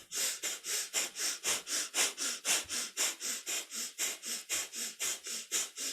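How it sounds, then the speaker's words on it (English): Kundalini yoga breath of fire: rapid, even nasal breaths pumped at about four per second, close and fairly soft, continuing without pause with no talking. "Inhaling up, exhaling down with a breath of fire"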